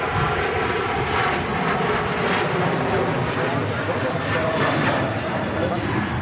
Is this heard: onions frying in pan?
no